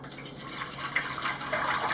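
Bleach water pours from a Vicks Cool Mist humidifier into a container, a soft steady trickle and splash lasting a couple of seconds.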